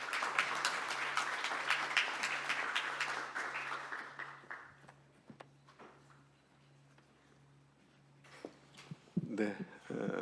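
An audience at a seminar claps for several seconds to welcome a speaker to the podium, the applause fading out into quiet, with a low steady hum and a few knocks afterward.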